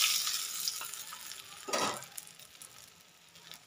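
A rohu fish head frying in oil sizzles close by, loud at first and then fading, with a brief burst of stirring or spattering midway before it quiets to a low hiss.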